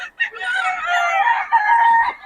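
Rooster crowing loudly and close by in one long, drawn-out cock-a-doodle-doo call, heard alone without talking.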